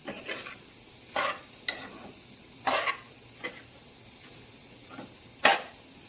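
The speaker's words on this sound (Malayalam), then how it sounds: "നമുക്ക് നന്നായിട്ട് അങ്ങോട്ട് വരട്ടി വരട്ടി എടുക്കാം" Spoon scraping a pan in short separate strokes while thick chicken parts masala roasts, each stroke a brief sizzling rasp between quiet pauses.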